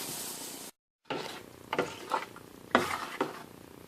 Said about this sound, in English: Alright, now we add our tomatoes